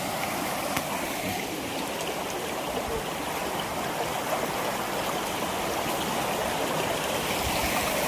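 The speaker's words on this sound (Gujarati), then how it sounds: "વેકરામાં પાણી આવી ગયું હતું. જો વેકરામાં પાણી જાય છે." Rainwater from a night of heavy rain runs through a sandy stream bed, a steady, even rush and trickle heard alone and fairly close, with no talking.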